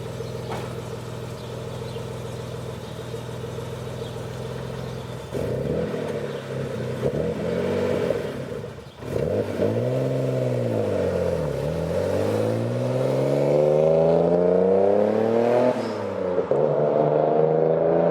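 Mitsubishi GTO with a suspected boost leak, idling steadily, then revving up and down in several swooping pulls and settling into a sustained higher drone, loud and close with clattery engine noise.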